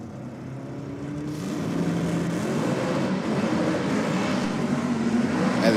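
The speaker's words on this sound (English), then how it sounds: "the Falcon just blazing the tyres pretty hard on the start line there" Ford Falcon drag race car spinning its tyres on the start line, a loud, steady engine roar with rising, sustained tyre squeal building over several seconds, heard from some distance.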